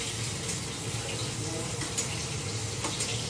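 Green chillies fry in hot oil for chicken fried rice, producing a dense, continuous sizzling hiss that stays close and steady throughout, with no talk over it.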